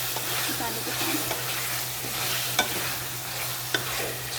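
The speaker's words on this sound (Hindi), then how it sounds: "थोड़ी देर इसको भूनेंगे आलू को भी मसाले के साथ।" Potatoes fry in a spiced masala in a pan, a constant sizzle broken by a couple of sharp scrapes and clacks as the mixture is stirred.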